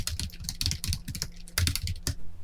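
Quick irregular bursts of keystrokes clatter on a computer keyboard, close and clear, with short pauses between runs as a title is typed into an Excel sheet.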